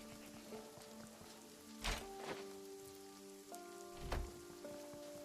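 Steady rain falls in the survival game Runescape: Dragonwilds, a continuous wash of drops on surfaces with a few louder splashes, while soft musical tones sustain underneath.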